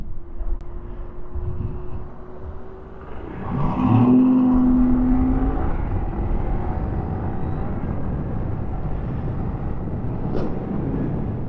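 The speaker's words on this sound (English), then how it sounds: "Chilling on the Grom, riding down the street, saving money." A 2025 Honda Grom ABS motorcycle rides down the street, its small engine revving up loudly and then holding a steady droning run with wind rush, close and continuous.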